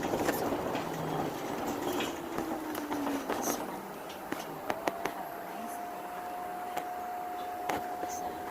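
A train pulling into a station, a low rumbling roll with squealing brake tones and scattered clanks and knocks, steady and moderately distant, with a faint voice in the background.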